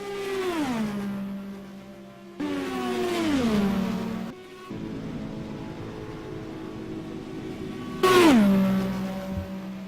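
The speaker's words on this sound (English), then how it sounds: "listen to these actual cars, it's a very, just beautiful sound" Video game race cars at Auto Club Speedway scream past one after another, each engine note sweeping down in pitch as it passes, loud and close with steady motor noise between them.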